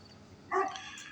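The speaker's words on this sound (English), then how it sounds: "I hate this stupid little Doberman pinscher. It just keep barking." A small Doberman pinscher lets out a single short bark, fairly close, followed by a brief trailing yelp.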